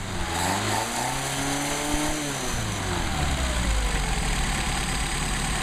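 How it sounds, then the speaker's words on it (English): A car engine running on Solex carburetors, close by, revving up and settling into a rough, uneven idle with a steady mechanical hum throughout and no talk. "You just got really nice running carburetors."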